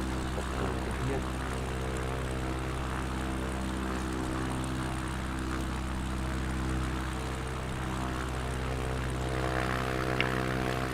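A light propeller airplane flies a circuit at 1300 feet for a touch-and-go on grass runway 04, its engine a steady, even drone that holds constant throughout, heard from inside.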